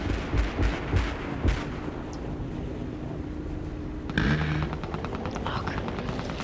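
In War Thunder, a BMP-2M infantry fighting vehicle launches a missile with a sudden loud roaring burst partway through, rising over dense battlefield rumble and distant gunfire thuds.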